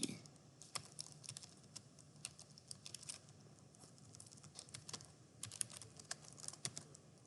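Quiet, close typing on a computer keyboard: irregular clusters of soft key clicks and taps, with a few slightly sharper strokes, over faint room hiss.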